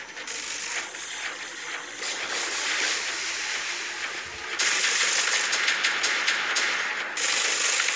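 Weapon fire from a robot in the War Robots video game, dense rapid mechanical clattering bursts with metallic ratcheting texture, loud and sustained, briefly dropping then resuming in heavier volleys.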